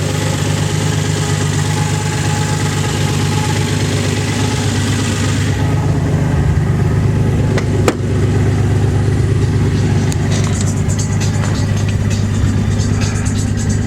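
Nissan 300ZX engine idling steadily at about 1,000 rpm after a hydrolock, a continuous loud, even drone close to the engine with a brief click partway through.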